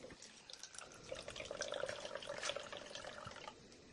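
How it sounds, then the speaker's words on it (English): Red wine vinegar being poured into paper cups holding eggs for a science experiment, a faint, short trickle of liquid splashing softly into the cups for a few seconds. "we'll measure 100 milliliters of red wine vinegar and place it into these cups"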